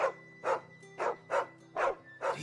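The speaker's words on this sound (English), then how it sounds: "That's one weird-ass dog, man." A dog barks six times in an even, steady rhythm, each short bark sharp and clear at moderate distance, with a low constant hum underneath and no voices.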